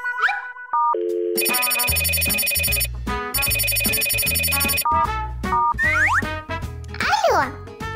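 A cartoonish telephone rings in the Bubbu and Duddu video game as a bright, repeating electronic bell pattern, mixed with springy game effects and a voice.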